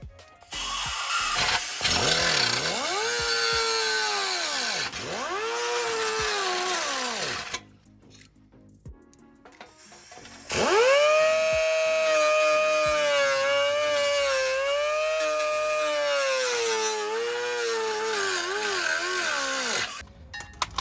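A power tool cuts through a rusty brake part on a 1996–2002 third-generation Toyota 4Runner during a brake swap. It makes a loud, close, whining grind in two long bursts with a short quiet gap between them.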